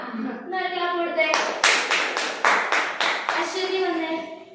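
A biology demonstration class claps together in a brief burst of sharp, rhythmic hand claps, preceded and followed by a voice talking nearby.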